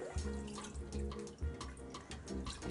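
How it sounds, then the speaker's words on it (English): Roughly three quarts of beef stock pour into a pot of caramelized onions, making a close, continuous gurgling and splashing pour for a few seconds with no talking. "This is about roughly 3 quarts of beef stock that we're going to be adding."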